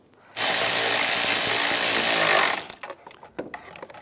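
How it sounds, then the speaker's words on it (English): A power tool runs in one steady, loud two-second burst while tightening a bolt on a 1998-2010 Volkswagen Beetle transmission mount, then cuts off, followed by scattered metallic clicks and handling noises. "Get the bolt started, and we'll tighten it down."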